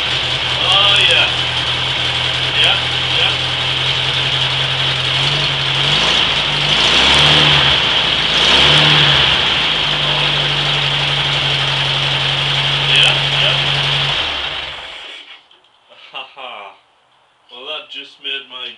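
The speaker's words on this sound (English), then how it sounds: "Hold it and press the starter." A 1985 Winnebago LeSharo motorhome engine, fired up by holding the fuel cut-off and pressing the starter, runs with a steady loud drone and some revving for about fourteen seconds before cutting out, leaving excited voices.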